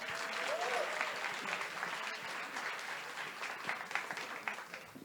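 A room full of people applauding, a fairly soft, steady patter of claps heard from a distance, with a faint voice briefly underneath.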